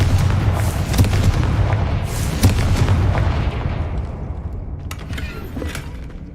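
Repeated Confringo fire spell explosions in the PS5 game Hogwarts Legacy: a series of loud, booming blasts in quick succession, fading into rumbling debris and scattered crackles, with no talk.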